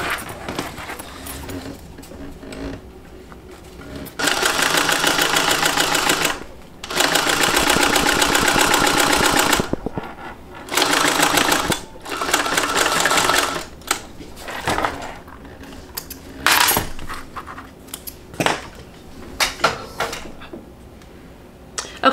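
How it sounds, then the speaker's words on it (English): A sewing machine topstitching a seam runs in several bursts of rapid, steady stitching, some short and some several seconds long, separated by pauses with quieter handling noises. "now I'm gonna go and add a top stitch right along here"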